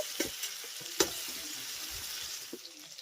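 Onion, garlic and chopped ripe tomato frying in a pan as they are stirred, a quiet sizzle broken by a few soft spoon knocks and scrapes, close and faint.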